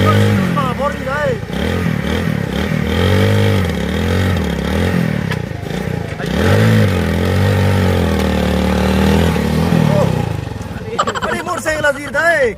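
A big motorcycle's engine revs up and down in repeated rising and falling sweeps, loud and close, with a voice partly heard over it and a sharper burst of revving at the end.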